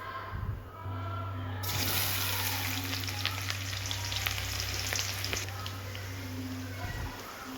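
Chopped onions sizzle in hot oil with popped mustard seeds, a dense steady frying hiss with a low hum underneath and occasional stirring clatter.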